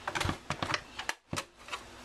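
Two stacked pieces of pink cardstock being cut together, heard as a quick series of close, sharp clicks and taps with a short pause in the middle.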